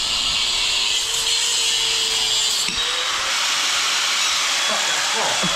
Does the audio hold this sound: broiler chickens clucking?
no